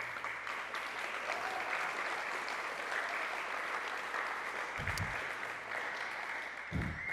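A steady, dense wash of audience applause fills a hall at a high school athletic hall of fame induction ceremony, holding loud and even throughout with no voices rising above it.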